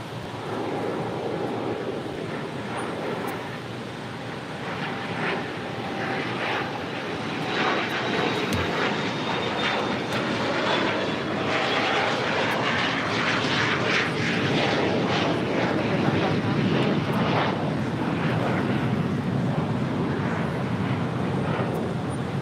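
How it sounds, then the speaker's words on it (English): A Nippon Cargo Airlines freighter, flight 101 at LAX, produces a long sustained jet roar that grows gradually louder over about twenty seconds, heard alone without talk. "Nippon Cargo Airlines 101."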